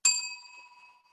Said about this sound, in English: I'm going to ring the bell so I can hear you.